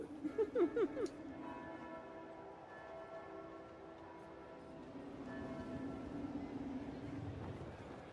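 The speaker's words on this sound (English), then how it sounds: "don't know if the fucking bell is ringing" Bell tolling in the game Warhammer 40k: Rogue Trader: a deep, resonant ringing with long sustained overtones after a short burst of metallic strikes, heard over a low ambient rumble.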